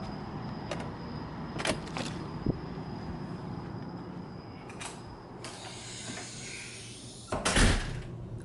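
A hotel room door at Disney's All-Star Movies Resort unlocked with a MagicBand, with scattered clicks and handle clunks, a hissing swing as it opens, then a louder thud near the end.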